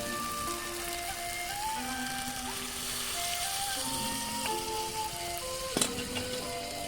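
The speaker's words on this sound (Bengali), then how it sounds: "আমি জলটা ঢেলে দেবো।" Water poured into a simmering village-style tangra fish curry with cauliflower, green peas, salt and turmeric, a faint, steady sizzling hiss that carries on evenly, with soft tonal sounds behind it and one brief clink near the end.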